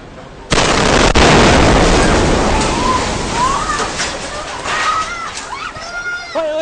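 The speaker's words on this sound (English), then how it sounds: "Another video from a dashboard camera also captured the explosion." A sudden loud bomb blast in Bangkok bursts out and rumbles on, followed by a confused background of commotion, voices and car horns.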